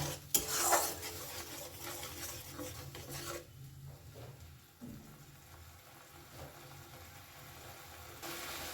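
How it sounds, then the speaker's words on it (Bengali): Spice masala is stir-fried in a pan over a medium flame, giving soft rasping scrapes and a low sizzle, with a brief clatter at the start that settles into quieter, steady stirring. "দু মিনিট ধরে মশলাটা বেশ নেড়ে নেড়ে আমি কষিয়েছি"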